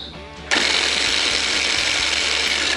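A pull-cord vegetable chopper with its lid on whirs as it chops onions, a dense, loud mechanical rattle that starts abruptly and runs steadily to the end, with no talking.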